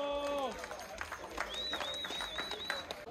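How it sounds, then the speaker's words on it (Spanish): Crowd applauding and cheering at an outdoor mountain-bike race award ceremony in Luvianos, Mexico, with steady clapping and a shrill whistle-like squeal over a lively murmur of voices. "¡Fuerte el aplauso!"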